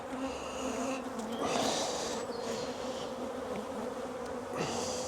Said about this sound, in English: It's picking it up is the trouble, because we have so many bees.